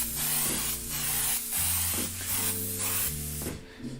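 A spray paint can hisses in close, loud bursts while graffiti lettering is painted, several sprays in a row with short breaks and a low, steady music bed underneath.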